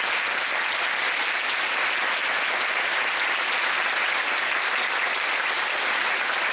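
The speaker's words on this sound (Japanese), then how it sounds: "もう一回大きな拍手をお願いします。" A large audience at the YAPC::Asia Tokyo 2013 programming conference closing gives loud, thick, continuous applause, sustained evenly throughout without a break.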